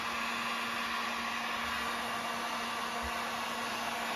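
A heat gun blows steadily on a plastic handle on a bow press bolt, a loud, close, continuous whooshing hum with a faint tonal whine and no pauses.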